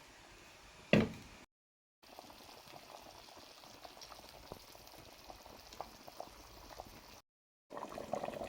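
Sauce graine with blended onions and chili cooking over high heat, a faint steady bubbling simmer with small pops, briefly interrupted by gaps and a sharper clatter near the start.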